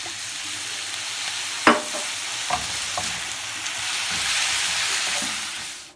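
Vegetables frying in a pan with soy sauce, a steady broadband sizzle running throughout with a few sharp clacks from stirring, close and moderately loud, no voices.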